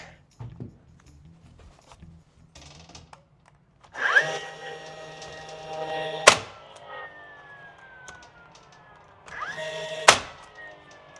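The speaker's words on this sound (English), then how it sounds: "I also like to shoot a nail from one piece into the other." A pneumatic nail gun fires two sharp, loud shots into wooden fireplace trim, a few seconds apart, amid quiet workshop hiss and faint handling noise.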